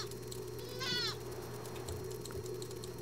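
A single near sheep bleat with a wavering, nasal tone from the survival game Windborne, rising over a steady low hum and faint watery background.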